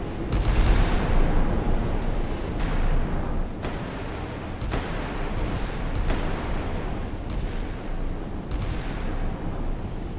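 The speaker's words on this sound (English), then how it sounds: "You can see the explosions in the distance there." Distant explosions from artillery thud repeatedly, several separate booms spaced a second or two apart over a constant low rumble.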